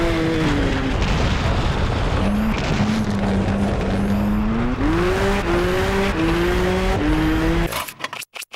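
Rally car racing in the video game WRC 4: a loud, continuous engine roar rising in pitch through the gears with tire noise, ending in a crash-like burst and abrupt cutoff.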